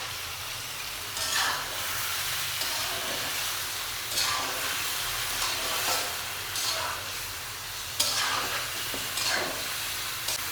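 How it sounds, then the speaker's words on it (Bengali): Beef frying in boiling hot oil over a high flame hisses steadily, broken by periodic scraping bursts as the meat is stirred and turned, with no voices. "ফুটন্ত গরম তেলে দেওয়া হচ্ছে এই গরুর মাংস"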